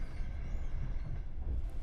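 A night train travelling from Tajikistan toward Uzbekistan rumbles steadily, with a constant low rolling drone of wheels and carriage, close and even throughout, with no voices.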